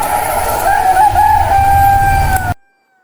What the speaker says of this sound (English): the flock of chickens rushed out to crowd around the feeding troughs